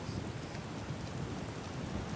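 Steady rain in the video game Skyrim, a dense, even hiss of falling drops with a low rumble beneath, continuous and moderately quiet with no talking.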